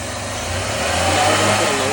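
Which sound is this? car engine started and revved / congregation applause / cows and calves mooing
car engine started and revved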